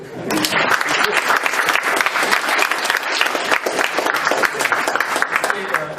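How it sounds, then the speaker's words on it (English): At a Toastmasters educational session, the audience breaks into loud, sustained applause for a speaker. Many hands clap densely throughout, with crowd voices mixed underneath. "Give him an applause, not for body language,"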